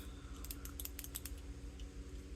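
Limit switches being installed on an Elegoo Phecda laser engraver give a quick run of faint, close, crisp clicks during the first half, then quieter handling noise.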